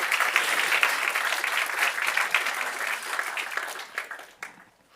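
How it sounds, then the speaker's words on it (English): A conference audience at a software talk breaks into warm, dense applause that holds for a few seconds and then tapers off to silence. No one speaks over it. "Now you can clap."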